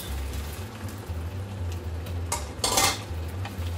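A spoon scrapes and stirs scallop risotto with broth in a pan, a steady low sizzle under soft clinks, with a louder scraping swirl near the end.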